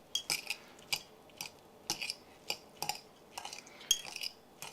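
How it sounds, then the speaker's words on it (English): Seasoned rice with garlic and butter being stirred with a utensil, giving repeated soft scraping clinks against the pot at an irregular pace, close and fairly quiet, with no talking. "And now I'm just going to stir it all around."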